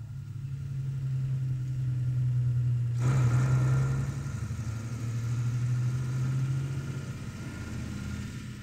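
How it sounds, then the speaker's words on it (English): A small WW2 German military convoy rolls through a village, a heavy-duty 4x4 Zugmaschine and lorry towing a liquid oxygen tanker and a mobile generator, giving a steady low engine drone that swells slightly midway and holds throughout. "This small convoy is passing through a village as it makes for the pre-arranged launch site."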